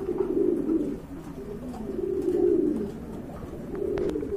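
Pigeons cooing in soft, repeated rolling phrases at close range, a pair kept for sale, with a steady low murmur running through and no talk.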